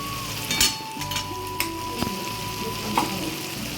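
Green chilli paste fries in a pan with a moderate hiss, broken by a few clinks and scrapes of a utensil against the metal, close up and with no speech.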